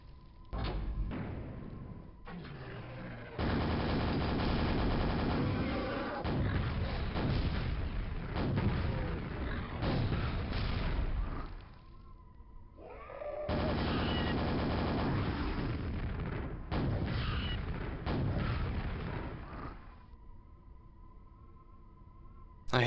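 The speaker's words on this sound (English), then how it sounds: "I just decided here to rocket jump after I see the red armor at the end of this passage here" Rocket explosions from rocket jumping in the video game Quake, long booming, rumbling blasts that roll on for seconds with short gaps between them, loud and close, no talk.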